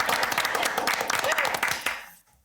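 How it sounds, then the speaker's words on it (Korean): Small audience at a seaside talk show in Jeju clapping in a lively burst under a speaker's voice, fading out at the end. "박수 한번 치고 할까요?"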